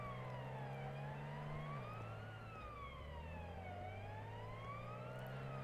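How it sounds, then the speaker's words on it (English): A police car siren in the Minecraft video game wails steadily, with tones sweeping up and down in slow cycles over a constant low drone, loud and continuous with no talk. "come to you in a police car"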